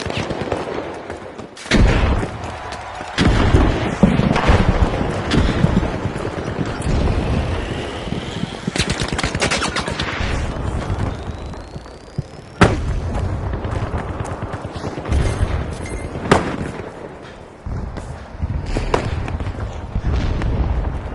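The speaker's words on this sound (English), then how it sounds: "Tossing a frag." Frag grenade explosions in The Finals video game, set in an arena match: loud booms mixed with dense bursts of gunfire and rumbling blasts, continuing almost nonstop with brief lulls.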